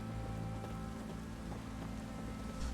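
Steady rain falls in The Witcher 3, a dense even patter with low rumbling underneath, continuous and moderately loud across the whole stretch without any talk.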